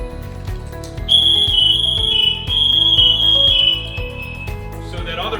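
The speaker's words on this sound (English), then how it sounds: "all the beeps and the air that you hear is a warning to the firefighter that their tank is getting low on air" A firefighter's breathing air tank sounds its low-air warning, a high piercing tone pulsing in two long bursts over rhythmic breathing and hissing air, loud and close, followed by a burst of air.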